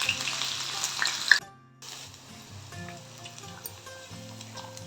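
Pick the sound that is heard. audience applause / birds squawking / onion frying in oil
onion frying in oil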